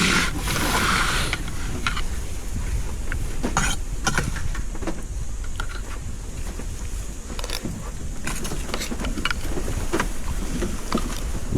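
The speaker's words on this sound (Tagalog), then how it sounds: "Lakas yung hangin." Strong wind blows across an open riverside farm, a constant roaring rumble buffeting the microphone with gusty surges and faint rustling throughout, loud and close.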